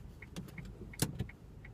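Handbrake being applied in a Hyundai i20, a quick ratcheting clicks and a firm mechanical clunk inside the quiet car cabin, close and brief.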